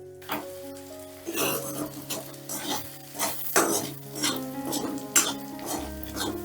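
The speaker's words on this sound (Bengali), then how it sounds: "এবারে এই মশলাটাকেও একটু নাড়াচাড়া করে নেব" A spoon stirs spice masala of turmeric, cumin, coriander and chilli powders in a pan on a low flame for Bengali eggplant curry, with repeated scraping and clinking strokes close by and no talk.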